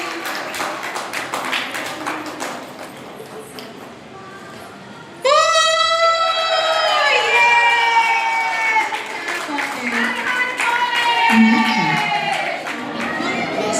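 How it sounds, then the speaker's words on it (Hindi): A crowd claps loudly for a Shiva–Parvati wedding enactment at a women's Lahariya festival. Steady rapid clapping gives way to loud shouting and singing voices over continued applause and cheering. "ये विवाह के लिए तालियां बजाइए एक बार जोरदार पार्वती जी शिव के लिए"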